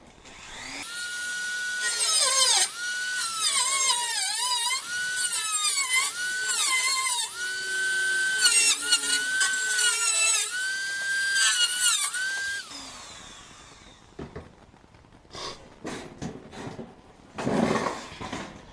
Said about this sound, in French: C'est la première fois que je fais une découpe comme ça à Dremel.